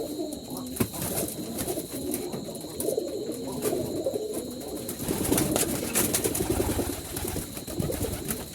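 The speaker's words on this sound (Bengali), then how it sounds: "কবুতরগুলো এলোমেলো হয়ে যাচ্ছে দেখেন সব কবুতর" Low cooing of Jalali pigeons kept in baskets fills the space, steady and layered from several birds, with brief rustles and faint flutters mixed in.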